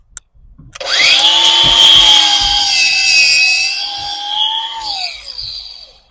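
Power tool cutting while stripping parts from a Sea Ray boat, a loud close whine that spins up after a brief knock, holds steady for several seconds, then winds down.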